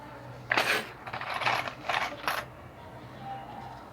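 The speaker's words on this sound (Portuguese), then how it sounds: "E vamos costurar." A sewing machine stitches a fabric toiletry bag in a few short, close mechanical whirring runs, with brief pauses between bursts and no talking.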